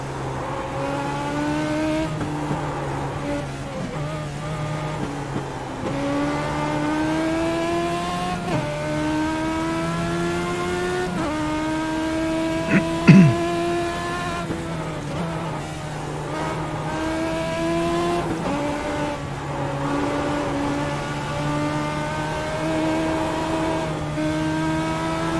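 Legends race cars lap the VIR Patriot course in a league race, a steady loud engine drone rising and falling through upshifts and downshifts, with a brief sharp burst midway and no talk over it.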